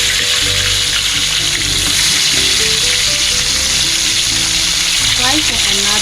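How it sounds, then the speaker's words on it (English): Fish frying in a wok for Penang Nyonya acar fish, with a loud, steady sizzle and crackle of hot oil filling the whole stretch, plus occasional faint clinks, no talk. "Let it fry for 1 to 2 minutes before you turn the fish"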